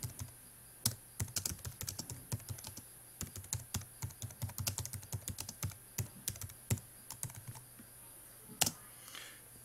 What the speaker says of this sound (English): You just type what you want in right there.